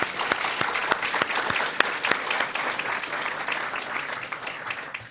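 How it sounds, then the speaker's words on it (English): A convention audience applauds at the opening of a summer national convention, a loud, steady wash of many hands clapping with a few sharp individual claps standing out, fading slightly toward the end. "Now we can clap for these guys."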